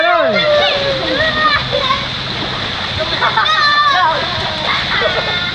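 Water splashes and churns loudly as someone jumps in at a campsite resort, with excited children shouting and talking throughout.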